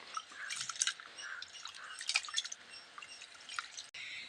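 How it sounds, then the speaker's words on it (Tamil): Rice being washed in water by hand for a Kongu-style dal rice dish: close, quiet drips, splashes and wet squishing in an irregular rhythm, with no talking. "அதுக்காக ரெண்டு மூணு தடவை தண்ணி ஊற்றி கழுவணும்"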